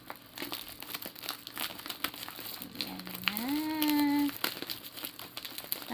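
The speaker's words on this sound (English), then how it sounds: "Sisirain ko na ang balot." Tape-wrapped gift packaging being torn open, with crinkling and ripping bursts scattered throughout, close and fairly quiet, plus a brief sustained whine in the middle.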